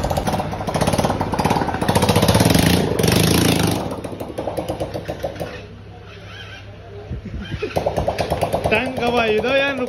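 An accident-repaired motorcycle engine starts and runs in a workshop with a loud, rapid chugging beat. It fades briefly midway, then picks back up, and voices can be heard now and then around it.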